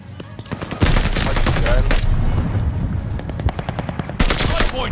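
Rapid automatic gunfire in the video game Call of Duty Vanguard during a competitive hardpoint match, dense bursts of shots running almost continuously, loud and close, with players calling out over it.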